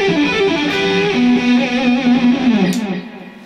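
An overdriven electric guitar plays a supercharged blues turnaround, sustained bending notes ringing loud and close before fading out, with no talking.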